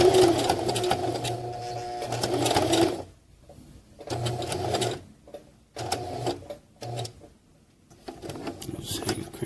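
Sewing machine stitching a webbing accessory pouch, a loud busy run for about three seconds followed by short stop-start bursts of stitching and quieter gaps.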